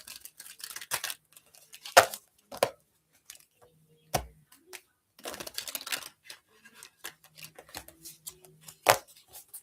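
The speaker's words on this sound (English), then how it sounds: "So we'll shuffle these here." Tarot cards riffled and tapped in short, crisp bursts, soft and close, with brief pauses between shuffles and no talking.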